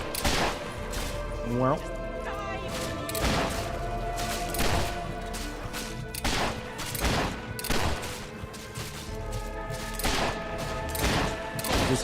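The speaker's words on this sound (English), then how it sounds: "Just keep shooting." Gunfire rings out in Fable 3 as rapid shots and bursts repeat through the scene, with a voice speaking briefly among them.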